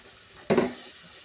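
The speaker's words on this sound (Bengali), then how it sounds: "মশলা কষানোর সাথে আমি কুচো চিংড়ি কুচো চিংড়িগুলোও দিয়ে দিচ্ছি" Small shrimp dropped into a pan of frying spice masala with a little water, giving one short clattering splash and burst of sizzle that fades quickly into a soft simmer.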